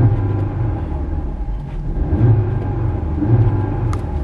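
A 2021 Audi TT RS engine revs in comfort mode with its exhaust valves closed, giving a steady, muffled low rumble that swells slightly and stays close and continuous, capped by a rev limiter at 3,000.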